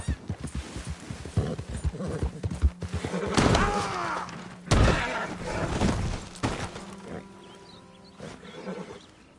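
In the Red Dead video game, horse hooves clop in a rhythmic gallop, joined by a loud, drawn-out whinny and snorts, with heavy thuds and ambient game sound around them.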